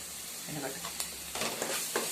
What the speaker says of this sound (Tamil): இப்போ நம்ம எடுத்து வச்ச இஞ்சி பூண்டி போட்டுடலாம். ஓகேங்களா? இப்போ நம்ம நல்லா வணக்குறோம் ஃப்ரெண்ட்ஸ்.